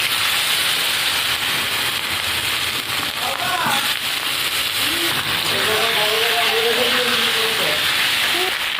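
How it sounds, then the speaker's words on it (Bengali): Potatoes sizzle in hot oil in a Bengali home kitchen, a steady, dense hiss with fine crackles that runs the whole time while a voice talks over it. "এবার আমি আলুগুলো ভেজে নেব।"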